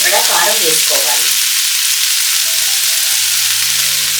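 Black-eyed peas frying with chili powder in a pan, a loud continuous sizzle with a few quick spatula stirs at the start before the hiss settles into a steady frying noise.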